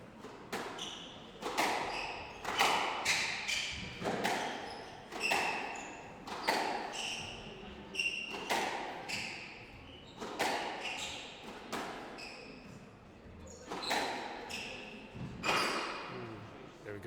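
A squash ball strikes the back wall in a professional PSA Challenger Tour match at the Waikato PSA Open, with repeated hollow thuds in a steady rally rhythm while people talk throughout.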